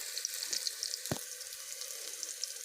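Jackfruit and potato frying together in a pan give a soft, steady sizzle with a gentle hiss, broken once by a single dull knock partway through.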